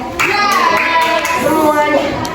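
Children in a classroom clap their hands in a short burst, a few crisp claps over excited young voices and chatter nearby.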